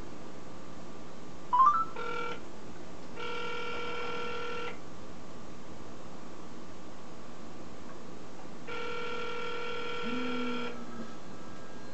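A cell phone inside a refrigerator rings in two muffled electronic bursts separated by a pause, sounding faint and enclosed, preceded by a brief clicking.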